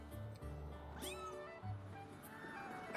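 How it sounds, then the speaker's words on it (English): A cat meows in The Legend of Zelda Skyward Sword HD, a single rising call near the middle, set over a steady bed of game music and ambience. "That's a weird looking cat."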